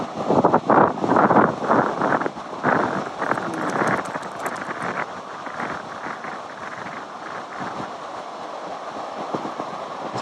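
Autumn seashore surf and wind make a continuous broadband rush, loudest in the first few seconds and then settling into a steadier, softer wash, with no voices.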